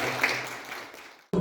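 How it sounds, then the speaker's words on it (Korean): A church congregation at a Sunday infant baptism service claps to welcome the newly baptized child, the applause fading steadily before an abrupt cut to a louder, different sound. "박수로 환영해 주시기 바랍니다."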